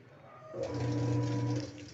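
A Mabe Kraken washing machine actuator being run from the control panel gives a low steady motor hum that rises after half a second and holds for about a second before easing off, with no talking.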